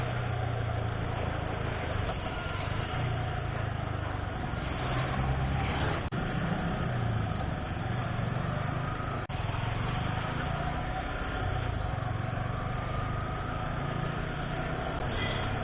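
Heavy road traffic on a bridge in Coimbatore makes a dense, unbroken roar, like wind and engines blended together, with a couple of faint clicks and no voices.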